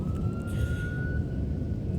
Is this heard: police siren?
yes